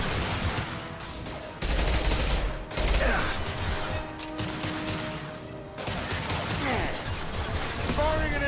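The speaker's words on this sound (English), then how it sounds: "Firing an impact shot." Gunfire in the sci-fi shooter Mass Effect 2 during an impact shot against a krogan, bursts of rapid shots and crashing impacts in bursts separated by brief lulls, with in-game voices talking at times.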